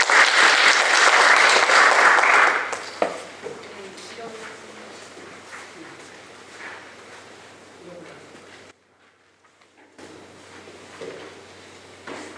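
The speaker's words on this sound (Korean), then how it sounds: "박수 한번 부탁드리겠습니다" Audience applause at a panel discussion on cultural heritage, a burst of clapping from a seated crowd for about three seconds that quickly fades, followed by a quiet hall with faint sounds and speech.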